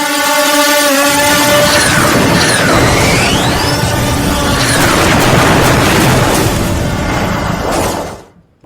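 Loud, heavy booms and crashing blasts from a drone attack near the Afghanistan–Pakistan border dominate, with rumbling debris and a whistling sweep overhead before the noise cuts out abruptly.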